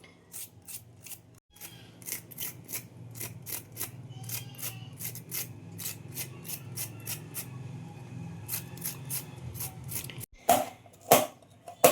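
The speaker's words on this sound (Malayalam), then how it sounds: "അതിനായിട്ട് പാവയ്ക്ക ആദ്യം ഒന്ന് തൊലി കളഞ്ഞെടുക്കണം." Bitter gourd being peeled with a knife, a run of quick rasping scrapes in irregular bursts, fairly close and steady, with a brief pause and a few sharper scrapes near the end.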